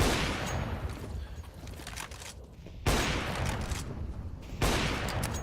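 Counter-Strike: Global Offensive gunfire during a match on Inferno, a dense continuous rattle of shots with two sudden louder bursts partway through, no voices.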